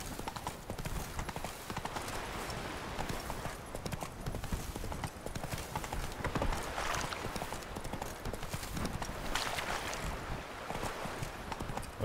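Horse hooves trotting in The Witcher 3 video game, a steady rapid clip-clop rhythm that continues without pause, close and fairly loud with faint wind behind.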